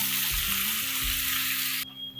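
Okra, onion and chilli hit hot oil in a pan with a loud, close sizzle and low clunks of the pan being handled, then the hiss drops off sharply near the end, leaving a quieter tone; no talking.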